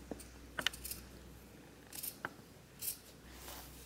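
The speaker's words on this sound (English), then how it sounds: "just with the scissors, just trimming around the very edge of the paper" Scissors trim around the edge of quilting paper, giving a few faint, close snips and clicks spread unevenly over a quiet room.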